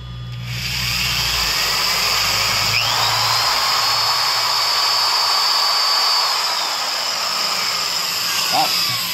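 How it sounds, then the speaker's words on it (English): Power drill running off a DIY power-wall inverter, a steady close high-pitched whine that spins up and holds for several seconds with slight pitch wavering. "Let's drill."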